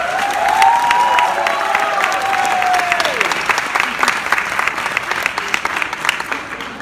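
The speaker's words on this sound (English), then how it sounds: "Round of applause." Enthusiastic audience applause and cheering for cast members at a Harlem series premiere Q&A, dense and loud clapping throughout with a rising whoop early on and voices mixed in the crowd.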